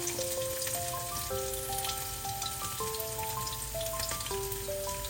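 Garlic and chilli sauté in hot oil for chicken noodles, giving a dense, continuous sizzle at moderate level, with a steady fine crackle and no voices.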